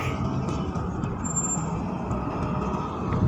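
Steady road traffic in Jahra, Kuwait, with heavy vehicles such as trucks or buses rumbling continuously at a fairly loud level and a brief high beep partway through.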